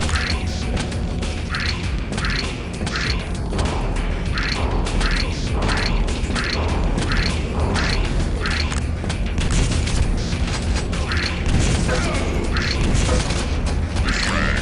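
Rapid machine gun fire in a first-person shooter, a loud, dense stream of repeated mechanical bursts that carries on without pause.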